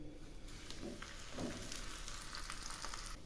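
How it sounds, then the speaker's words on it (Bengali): An aloo paratha frying in a pan, a soft steady sizzle with faint scrapes and light taps, fairly quiet and close. "এখন আমি এই পরোটাটাও ভেজে নিচ্ছি।"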